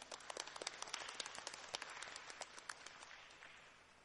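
A church congregation claps at a Sunday Catholic Mass, a faint, dense patter of many hands that keeps a steady rhythm for several seconds and slowly tapers off.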